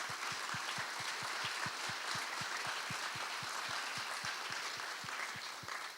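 Audience applause at an exhibition opening honoring defenders and veterans, a continuous dense clapping wash from a large room with a rhythmic low thumping pulse running steadily underneath.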